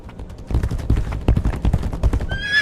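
Horse in the Legacy of Kain video game whinnying and galloping, with hooves clattering in a fast rhythm and a bright neigh rising near the end, loud and close against busy game sounds.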